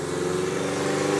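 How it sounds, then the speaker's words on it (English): A loud car engine drones close by, a steady, throaty rumble with a strong tonal hum holding constant throughout, no voices over it. "Get your loud ass car out of here."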